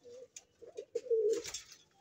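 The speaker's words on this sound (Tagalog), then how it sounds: "Ayan ang ibon natin." Pigeons cooing close by in a loft of fancy racing pigeons, a few soft throaty coos with a brief flutter of wings in between, short and clear.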